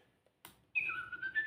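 A Little Live Pets toy bird lets out a bright electronic chirp and warbling whistle after a soft click, short and fairly faint, with no talking.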